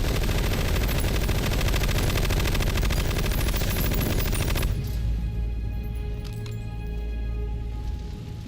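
Rapid automatic gunfire in the Metal Gear Solid Delta video game, from a weapon that fires extra bullets: a loud, dense burst of shots that stops abruptly partway through, followed by quieter scattered clinks and ambient game sound.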